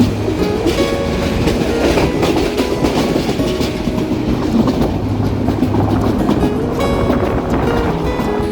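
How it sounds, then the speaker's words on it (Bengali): Rangpur Express passenger train running on rails under the Dhaka Elevated Expressway, heard from on board as a loud continuous rumble with rhythmic clickety-clack of the wheels over rail joints. "আমাদের ট্রেনটি কিন্তু নবনির্মিত ঢাকা এলিভেটেড এক্সপ্রেসওয়ের নিচ দিয়ে যাচ্ছে"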